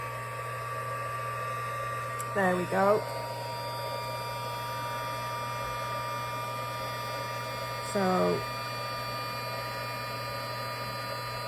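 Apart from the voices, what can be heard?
heat tool running for heat embossing powder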